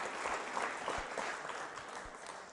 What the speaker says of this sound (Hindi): तालियां बजाइए उन महिलाओं के सम्मान में।